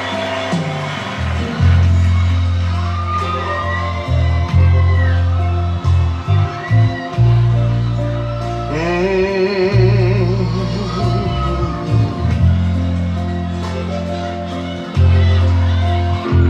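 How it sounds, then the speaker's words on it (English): Live concert crowd at a show clapping and shouting as the performer takes the stage, a loud sustained roar of cheers and whoops with music rising through it. "that is the audience up clapping and shouting because he's on stage"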